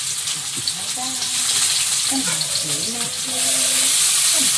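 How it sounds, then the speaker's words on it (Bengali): Chopped onion frying in a little oil in a wok makes a steady, close sizzle that swells louder near the end, while a person talks over it. "একটা কড়াই একটু তেল দিয়েছি, এবার পেঁয়াজ কুচি"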